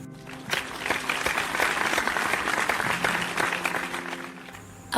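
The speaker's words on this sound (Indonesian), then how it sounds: "Beri tepuk tangan untuk Zeno." A class of students applauds a classmate during an arts lesson on traditional dance, with a dense, steady round of clapping that swells quickly and carries on for several seconds before tapering.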